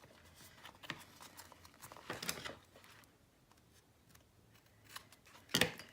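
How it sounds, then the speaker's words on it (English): Scissors trim excess paper from around a craft album cover, making several separate crisp snips and short paper rustles, close and quiet, with pauses between cuts and a louder final snip near the end. "If you rest your scissors right against your cover, you're not going to really be able to cut too much."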